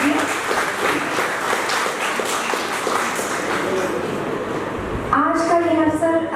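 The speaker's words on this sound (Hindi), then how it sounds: "एक बार जोरदार तालियों के साथ हमारे मुख्य" An audience at a retirement ceremony for an office superintendent gives a sustained round of clapping while a voice keeps speaking over it.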